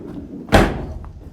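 A 2019 Renault Trafic 1.6 dCi Business+ van door swings shut with one loud, solid slam close by, followed by quiet background.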